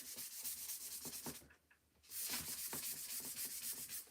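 A painted wood kit piece sanded by hand for a distressed finish: steady, close rubbing strokes in a quick back-and-forth rhythm, with a brief softer pause midway before the scraping resumes.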